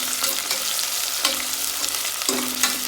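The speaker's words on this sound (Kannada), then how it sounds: "ಈರುಳ್ಳಿ ಸ್ವಲ್ಪ ಚೆನ್ನಾಗಿ ಎಣ್ಣೆನಲ್ಲಿ ಚೆನ್ನಾಗಿ ಹುರ್ಕೊಳ್ಬೇಕು." Onions frying in oil give a continuous close sizzle, broken by a few sharp stirring scrapes and clinks of a spoon against the pan.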